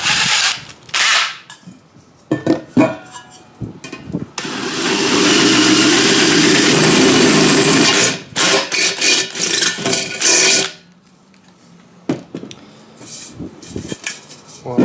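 A power drill bores a 3/8 inch hole while fitting a tire pressure equalization system on a Class A diesel pusher motorhome, a loud sustained whine from about four to ten seconds between shorter bursts, clicks and handling clatter.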